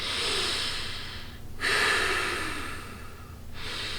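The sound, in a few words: forced loud breathing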